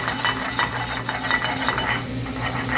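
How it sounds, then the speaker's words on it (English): Shrimp stir-frying in a hot pan, a steady loud sizzle with rhythmic scraping and tossing strokes of the utensil throughout, no voices. "So we're going to add our shrimp back in."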